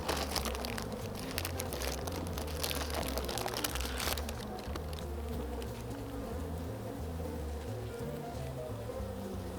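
Honey bees drone inside an open hive as pieces of fondant are set among them, a dense continuous buzz close by, with crinkling and handling noises over the first few seconds.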